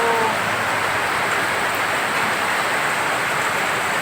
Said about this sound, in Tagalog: pero malakas ang ulan